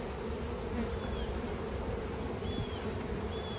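Honeybees buzz in a constant close drone over an open hive being bulk fed with syrup, a dense hum with occasional single bees zipping past.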